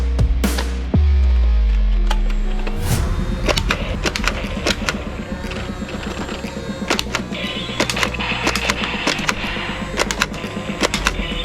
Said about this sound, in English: Blue machine gun!